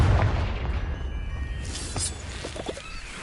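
A Confringo blasting-spell explosion from Harry Potter goes off as a loud, rumbling boom with crackling, bursting debris, then slowly fades into a low roar.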